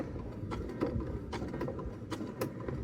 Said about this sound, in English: I have my speed turn all the way down so you can kind of see what that looks like, nice and slow for top stitching